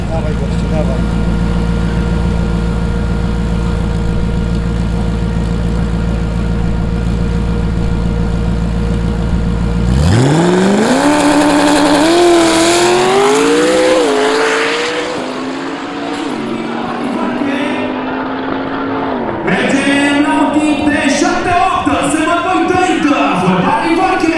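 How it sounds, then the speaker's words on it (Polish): A pro drag racing car from Valke Motorsport at a quarter-mile drag strip in Arad, Romania: a loud, deep idle rumble, then a launch into a screaming, climbing engine note with several gear shifts, a brief lull and another roaring run. "Mașina de pro a Valke Motorsport."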